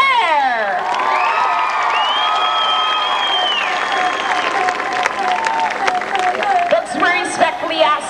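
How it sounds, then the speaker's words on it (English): A large outdoor crowd at a Six Flags Great Adventure high-dive show in 2001 cheers and claps for a diver high above them, with loud sustained applause, whoops and children's shouts, and a long whistle or siren-like tone overhead. "you folks want to get behind him with a thunderous round of applause"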